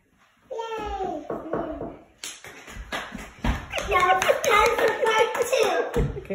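Young children, about six, clap their hands in a quick, uneven burst of claps close by, mixed with their chatter and singing-like voices.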